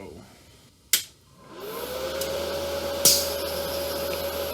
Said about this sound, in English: I can see the little DC motor turning for those drive wheels